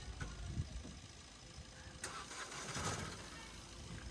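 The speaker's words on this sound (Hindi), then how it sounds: "गाड़ी स्टार्ट नहीं हो रही है" A car stalls on a slope, and its engine is cranked without catching, a faint low churning with a few brief bursts that never settle into a running idle.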